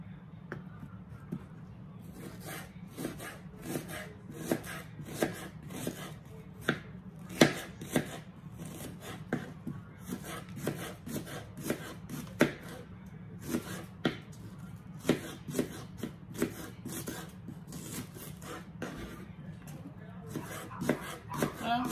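Knife chopping vegetables lengthwise (onions) on a cutting board during a quick home meal prep, a steady series of sharp close thuds repeating rapidly over a low background hum, some faint talk under it.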